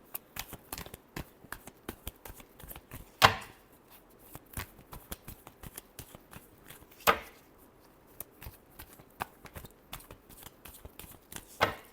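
A deck of tarot cards being shuffled close up, with soft, intermittent flicks and riffles and a couple of sharper, louder snaps, and no talking.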